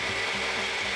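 Loud continuous mechanical grinding and whirring as about six frozen strawberries and a heap of blueberries are whisked up, a steady dense roar throughout with no break.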